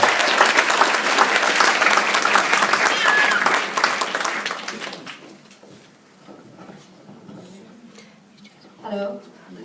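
Conference audience applauding a speaker, a loud, dense burst of clapping for about five seconds that quickly fades out, followed by quiet room noise and a faint voice near the end.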